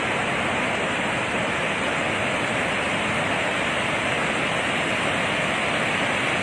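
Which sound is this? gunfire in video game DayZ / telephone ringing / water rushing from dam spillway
water rushing from dam spillway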